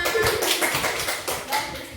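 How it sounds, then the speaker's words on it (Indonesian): A classroom of students clapping their hands together, a dense run of quick, uneven claps at moderate loudness, with faint voices underneath. "Tepuk tangan semuanya."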